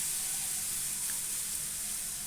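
Chili and garlic paste sizzling in hot oil in a wok, a continuous bright hiss that stays even and fairly loud throughout, with no talking.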